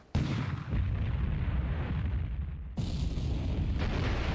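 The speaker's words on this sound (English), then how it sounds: "Goodness, Fuso's still shooting her." Heavy naval gunfire from the battleship Fuso in War Plan Orange, two big blasts opening in booming salvos with long rolling, rumbling tails, loud and close, with no talk over them.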